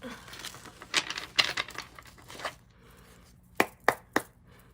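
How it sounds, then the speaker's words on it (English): Tarot cards being shuffled by hand in one full shuffle, a burst of dry riffling and slapping clicks followed by three sharp separate snaps, close and fairly loud. "One full shuffle for the collective."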